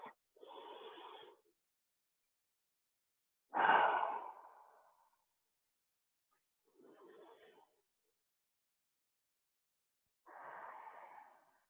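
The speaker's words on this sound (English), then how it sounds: "Deep breaths." Slow deep breaths during a guided floor stretching session, four separate inhale and exhale sounds spaced a few seconds apart with silence between, soft and close.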